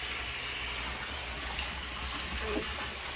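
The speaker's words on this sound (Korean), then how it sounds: "이쪽 거름통에서 거름물이 액비가 물탱크로 흘러 들어갑니다" Liquid manure pours steadily from a compost tank into a large water tank, a continuous loud rushing gush with no breaks and no talking.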